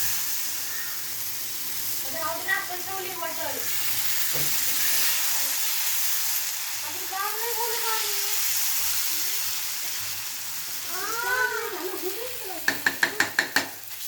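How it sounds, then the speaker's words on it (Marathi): Mixed-dal adai batter sizzles on a very hot griddle with a steady, close hiss, while someone speaks intermittently and a few quick utensil taps sound near the end. "हे बघा तवा माझा गरम झालेला आहे म्हणजे जास्तीत गरम झाला आहे आपण याच्यावर टाकून घेऊ"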